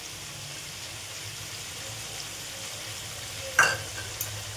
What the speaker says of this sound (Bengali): এই যে এবার দেবো টমেটো আর পেঁয়াজের পেস্ট।